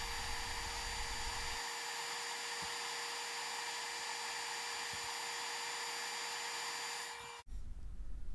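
Heat gun blowing steadily over epoxy resin in a mold, a loud constant whirring hiss that runs unbroken for several seconds before switching off sharply.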